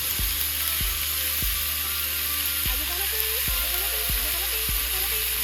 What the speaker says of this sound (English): we're going to allow the bacon to, of course, get brown and sit it to the side